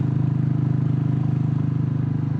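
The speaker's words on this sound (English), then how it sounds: "I've managed to bring the revs up." A Royal Enfield Classic 350 motorcycle engine idles with its revs raised, a steady close thumping drone with an even pulsing rhythm throughout, no voices.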